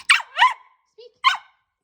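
A Cavapoo puppy barks on the speak command, giving three short high yips in quick succession with a brief whine between, close and clear in a quiet room.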